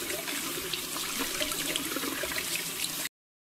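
Water runs steadily, a close splashing wash that stops abruptly after about three seconds, followed by silence.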